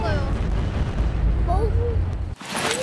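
Fireworks bursting in the VR game A Township Tale during a festival, giving loud, dense crackling booms and whistling rises with a sharp pop near the end, with people talking over them.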